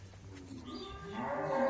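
A Gir cow moos with a drawn-out, rising call that grows louder toward the end, heard alone without talk, at a cattle market in Badarganj.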